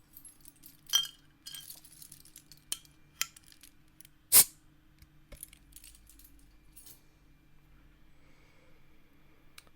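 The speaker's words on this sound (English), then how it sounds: "I've lost my bottle opener, so I'm having to use my keys." Keys jangle near the microphone while a beer bottle is pried open with them, a sharp metallic click near the middle among scattered clinks, with low background hum and no talking.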